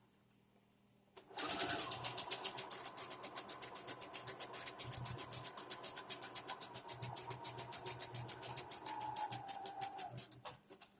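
A sewing machine stitches fabric in a fast, even run of mechanical clicks and whirring hum for about nine seconds, starting abruptly after a quiet moment and stopping near the end; close and clear, no voices.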